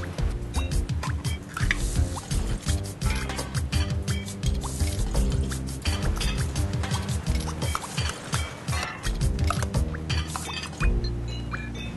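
Tuna canned in palm oil being drained in a home kitchen, with steady liquid pouring and dripping plus occasional clinks of metal against a dish, moderately loud and close throughout.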